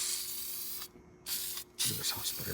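A product is sprayed from a can onto faded black plastic trim near the radio inside a Rolls-Royce, giving a close, steady hiss with two brief pauses between bursts.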